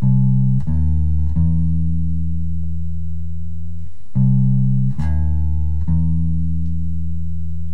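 Deep plucked bass guitar notes ring out in two matching phrases of the C Hungarian major scale, each a few quick notes then one long sustained tone, clean and close with no voices.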